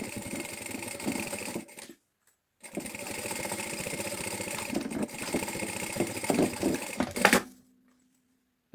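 A sewing machine topstitches a seam on a bag, whirring steadily in two close, continuous runs with a short stop between them and a faint hum after the machine halts.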